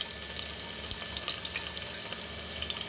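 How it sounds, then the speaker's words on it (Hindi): Finely chopped onion fries in hot oil, giving a steady, close sizzle with scattered crackles and pops throughout. "प्याज को महीन महीन काट लिया है और उसको तेल में डालेंगे।"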